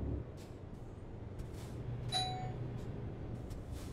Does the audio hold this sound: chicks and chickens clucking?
no